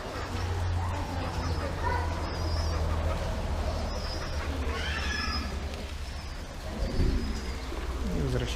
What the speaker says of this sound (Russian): Такой вот второй купол с голубями